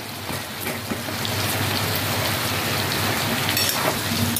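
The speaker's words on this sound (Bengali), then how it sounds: "এই মশলাগুলোকে দিয়ে একটু ভেজে নেব।" Whole spices and green chilies fry in oil in a pan for a spicy red chicken dish, giving a dense, continuous crackling sizzle up close with no talk.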